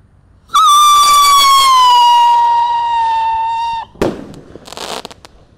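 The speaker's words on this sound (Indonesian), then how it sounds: "eksperimen menyalakan banyak sekali mercon dan petasan yang baru-baru ya, spesial menyambut Ramadan" A new firework for welcoming Ramadan 2025 lets out a loud, close whistling screech lasting about three seconds, then bursts with sharp crackling pops that trail off.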